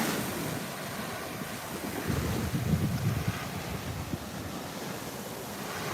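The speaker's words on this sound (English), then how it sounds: "the very calm Atlantic Ocean in front of me." Calm Atlantic Ocean waves wash onto a beach at sunset, a steady low rushing surf with a slightly fuller swell in the middle, mixed with light wind noise on the microphone and no talking.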